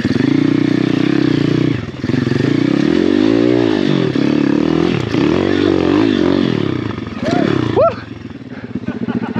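A 150cc pit bike climbs a mountain single track, its engine revving and bogging up close with scrapes and clatter, while riders talk and shout over it.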